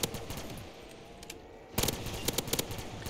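A94 rifle in Black Ops 3 custom zombies on the Krusty Krab Tower map, firing a few scattered shots and then a rapid burst of loud automatic gunfire near the end.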